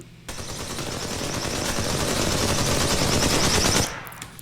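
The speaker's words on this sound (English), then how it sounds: "there's a small gunfight going on between two different players" Rapid, dense bursts of automatic gunfire and weapon blasts from a small gunfight between two players in Apex Legends roar continuously for several seconds, loud and close, then cut off.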